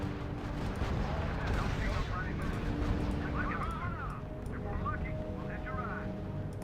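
Sustained gunfire and artillery thunder in the World War II strategy game R.U.S.E., a dense rumbling barrage under voices talking throughout.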